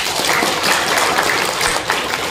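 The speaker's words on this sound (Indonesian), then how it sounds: "Tepuk tangan dong." An audience at an Indonesian Sunday religious gathering claps in a dense, continuous burst, loud and close throughout with no speech.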